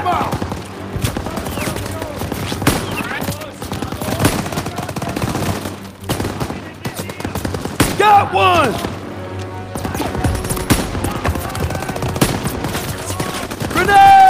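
Call of Duty: WWII firefight with a machine gun on a second floor: dense, rapid bursts of automatic gunfire and sharp shots, loud and close, with soldiers shouting between volleys.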